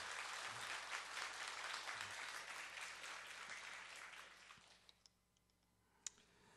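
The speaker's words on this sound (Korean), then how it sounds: "우리 인사 한번 하게 박수 한번 쳐주세요" A church congregation applauds a newly elected city council member, a deacon, with dense sustained clapping that fades out, leaving a few isolated claps and clicks at the end.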